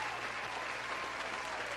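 A short burst of dense audience applause after a music performance, continuous and even throughout, heard at moderate level without voices.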